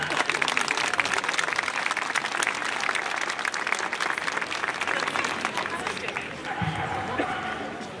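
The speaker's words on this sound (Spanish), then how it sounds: "Fuerte el aplauso." Outdoor crowd applauding a marching band at a performance in Perote, Veracruz, steady dense clapping throughout, with an announcer's voice faintly over it near the end.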